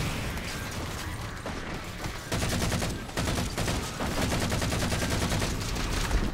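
Rapid bursts of Covenant weapon fire in the video game Halo 4, loud fast-cadence shots repeating in several strings with mechanical clatter between them.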